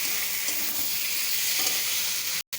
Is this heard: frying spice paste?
yes